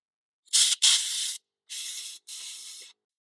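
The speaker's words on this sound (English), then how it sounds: "So I'm going to take my air compressor." An air compressor blows out the sail switch of an Airstream furnace in four sharp, close bursts of hissing air, the first two nearly back to back and the next two after a short pause.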